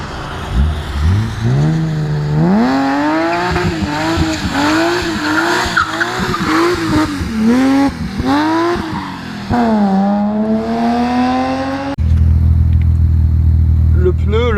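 A BMW M3 E36 launching from a standing start, its loud engine climbing through repeated rising revs with gear changes and tire noise, then settling and fading, followed by a sharp shift to a low steady rumble.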